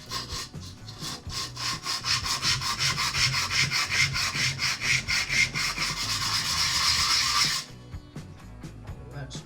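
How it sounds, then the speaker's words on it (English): Rough 121-grit sandpaper scrubs steadily against a cow bone needle, a rapid back-and-forth rasping that runs close and continuous for several seconds before stopping abruptly. "let's get some rough sandpaper out."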